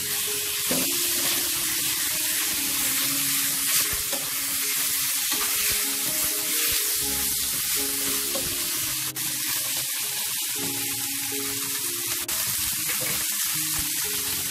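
Chicken strips stir-fry with garlic and ginger in a wok as part of a chicken and courgette dish. A loud, steady sizzle and crackle of frying runs throughout, with occasional scrapes and clanks from stirring and no talk.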